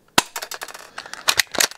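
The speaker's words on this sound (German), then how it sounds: "Und ich schieße mal hier durch." An air gun fires a single sharp, loud shot through a chronograph, followed by quick clattering and rattling as the shot rings out.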